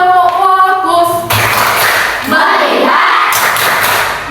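Classroom group doing a rhythmic 'tepuk fokus' clap chant, a brisk run of claps following a spoken call, with voices chanting along over the clapping.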